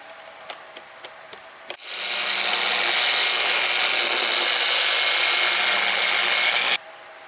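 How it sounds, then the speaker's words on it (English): Wet sanding of aircraft paint on a Daher Kodiak 100, with a few light taps and then a steady, loud, close abrasive whir that runs for about five seconds and stops abruptly. "So I'm gonna re-sand this real quick and get it to look more even"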